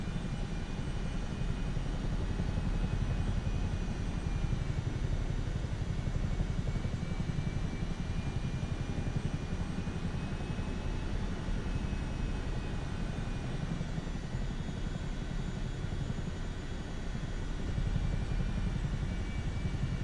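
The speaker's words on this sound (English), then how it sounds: "Fly the Chinook around a little bit." A Chinook helicopter flies in Microsoft Flight Simulator 2024, giving off a steady, even engine and rotor drone that holds level throughout with no speech over it.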